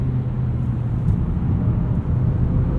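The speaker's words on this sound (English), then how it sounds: "Use these paddle shifters to downshift." A 2019 Mazda3 AWD sedan's engine drones steadily from inside the cabin during a night drive as the paddle shifters are used to downshift. The low rumble stays even and fairly loud throughout, with no talking.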